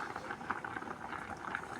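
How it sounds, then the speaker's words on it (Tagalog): Water with papaya bubbling at a steady boil in a pot, a soft continuous burble with small pops, close and moderately quiet. "Ito po siya, ito kumukulo na po."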